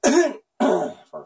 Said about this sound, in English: you just have to clear your throat like every goddamn 30 seconds